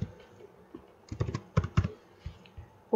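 Typing on a computer keyboard, a close, irregular run of crisp key clicks that starts sparse, bunches into quick bursts in the middle and then thins out, heard alone with no talk.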